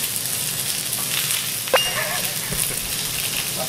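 Onions frying in a pan in a professional kitchen while making pork kimchi rice bowl, a steady soft sizzle under quiet voices in the background.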